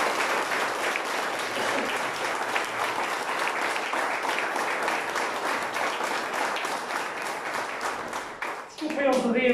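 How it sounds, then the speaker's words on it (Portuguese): Sustained applause from a crowd at the inauguration of a coalition's campaign headquarters, dense steady clapping filling the room for about nine seconds before tapering at the end, with some voices mixed in. "peço uma grande salva de palmas para o Francisco"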